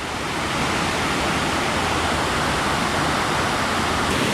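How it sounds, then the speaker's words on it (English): Weisendanger Falls on Multnomah Creek pours in a steady, broadband roar of falling water in a wintry forest, loud and close, unbroken from start to finish with no voices. "This is Weisendanger Falls"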